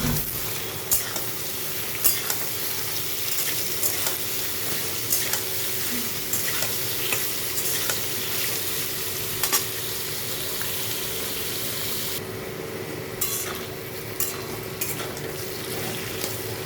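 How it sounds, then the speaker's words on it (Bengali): Chopped potatoes frying in hot white oil in a wok for chow mein, steady close sizzling with repeated scraping stirs and brief clatters, no voices. "কড়াইতে দিয়েছি সাদা তেল, তো তেলটা গরম হয়ে গেছে। তো এখানে আমি কুচানো আলুগুলো দিয়ে দিচ্ছি।"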